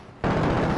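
Sustained automatic gunfire from an SMG or assault rifle in the video game Like a Dragon: Infinite Wealth, kicking in abruptly after a short quiet lead-in and roaring loud and dense to the end.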